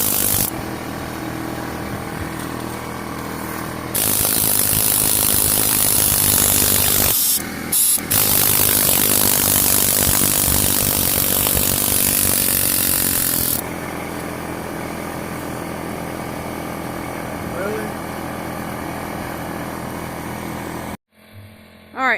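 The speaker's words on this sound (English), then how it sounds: "so you hear the air tank going" Air tank compressor running steadily at a well restoration job, a loud continuous mechanical drone with a brief dropout partway through, then a quieter steady hum before cutting off near the end.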